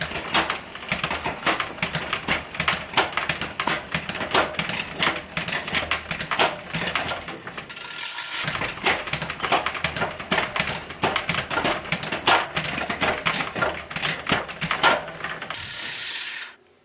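A road bike rear derailleur shifts down through the gears as the freewheel ticks in a fast, dense clicking rhythm, close and steady, with a short pause midway and a cutoff at the end.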